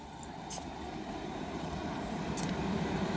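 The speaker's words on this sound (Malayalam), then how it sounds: "ഓ, ട്രെയിൻ വരുന്നത്." Train rolling into a railway station platform, a steady low rumble of wheels and carriages that grows gradually louder, with faint high squeals above it and no talking.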